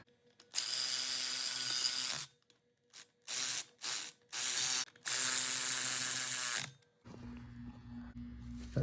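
Power tool tightening clutch pressure plate bolts in a crisscross pattern on a turbo Cavalier during a SPEC Stage 3+ clutch install: several loud whirring bursts of varying length, close up, with no talk.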